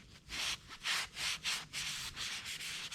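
A Scotch-Brite pad scrubs surface corrosion off a motorcycle swingarm in quick back-and-forth strokes, making a close, raspy rubbing sound in rhythmic bursts.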